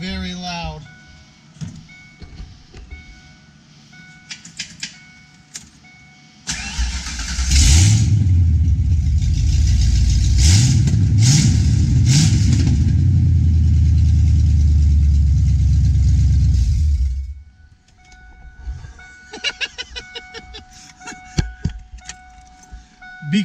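A 1992 Ford Mustang GT with an off-road X pipe cranks and roars to life, a loud, deep, raspy exhaust rumble with revs held for about ten seconds before cutting off, with clicks and handling noises before and after.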